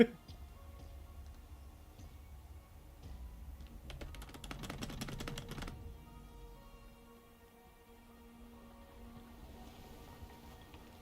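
Computer keyboard arrow keys are pressed in a quick cluster of clicks lasting about two seconds, moderately close, amid quiet game sounds.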